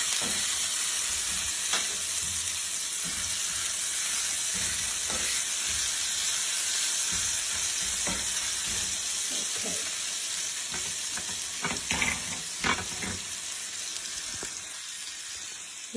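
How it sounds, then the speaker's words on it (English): Ground beef sizzles and fries steadily in a pan for a Big Mac salad, with scattered scrapes and clicks from stirring over a continuous bright hiss, close and moderately loud, no talking. "you just kind of finish cooking your ground beef all the way through"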